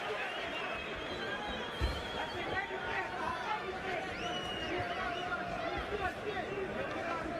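Boxing arena crowd at the Valuev vs Evander Holyfield WBA heavyweight title fight, a steady hubbub of murmuring and cheering throughout, with commentary voices over it.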